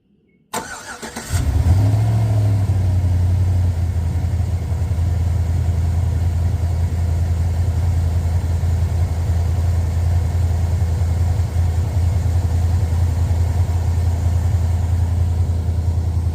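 A 2007 Chevrolet Vortex V8 with a misfire on cylinder number 8 and stock exhaust cranks briefly, fires up and settles into a loud, steady, rumbling idle close by, with no talking.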